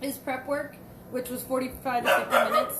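A pet dog barks and yips in short, sharp bursts nearby in a home kitchen while a person talks over it.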